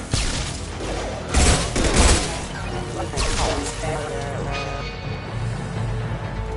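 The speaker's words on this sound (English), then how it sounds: "Firing an impact shot!" Gunfire in the video game Mass Effect 2, a fusillade of shots and heavy thuds with louder bursts early on, mixed with game sounds and what may be voices under the action.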